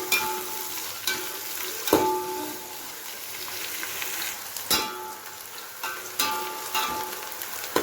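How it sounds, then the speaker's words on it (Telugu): Onions frying in a pan with bay leaf and whole spices for Kuwaiti machboos, a steady close sizzle broken by sharp stirring scrapes and clicks at intervals, with no talking. "ఇలా బ్రౌన్ కలర్ వచ్చేంత వరకు వేయించుకోండి."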